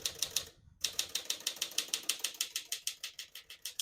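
A 1954 Smith-Corona Silent-Super portable typewriter clacks out a steady run of keystrokes, each a crisp close strike in quick regular rhythm, broken by one brief pause near the start.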